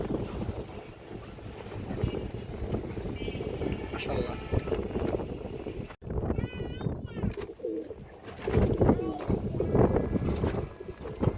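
Pigeons coo at a farm selling old-line pigeons, their murmuring mixed with strong wind buffeting the microphone, while someone talks over them almost throughout.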